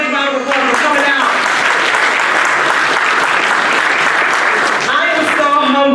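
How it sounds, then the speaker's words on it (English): A crowd applauds loudly and steadily, dense clapping filling the whole stretch, with voices mixed in near the start and end. "Give yourselves a big round of applause for coming out."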